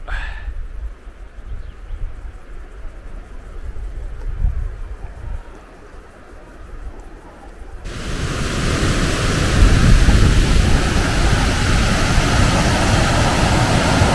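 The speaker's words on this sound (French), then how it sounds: "Les eaux du torrent vont se perdre là-bas au fond de ce gouffre" Mountain torrent rushing in the Pyrenees, a steady broadband roar of water that swells louder partway through and then holds constant, with no voices.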